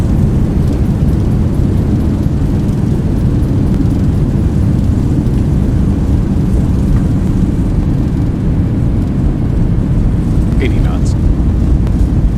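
Thrust reversers on an airliner in the X-Plane 11 flight simulator roar as a dense, steady low rumble after touchdown on a Brazilian landing, loud and unbroken, with no voices over it.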